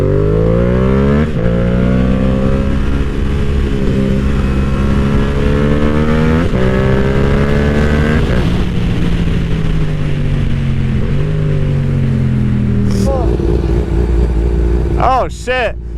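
A 2022 Yamaha R7 and a Kawasaki Ninja ZX-12R riding together on a cold day, loud engine drone rising and falling through gear changes, close and continuous, with riders talking over it.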